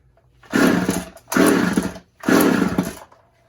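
An Echo 280e chainsaw is pulled three times in quick succession, each pull giving a loud, close, rasping roar of about a second that sputters out without catching.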